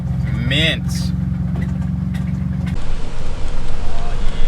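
Nissan 350Z drift car with a blown motor, its engine running with a steady low idle drone that roughens, while people talk over it.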